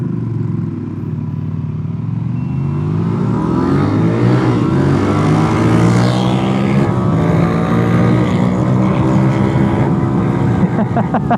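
Two motorcycles, a DRZ400 and a Ducati Desert Sled, accelerate hard together from a standing start, engines rising loudly in pitch through the gears and staying close and sustained throughout.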